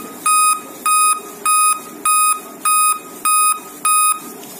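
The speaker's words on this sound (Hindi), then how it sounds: "अभी ब्रदर ये काउंट कीजिए बीप" Repeated loud electronic error beeps from a laptop motherboard running without its display, about seven even pulses in a steady rhythm, sounding through a speaker over constant background hiss.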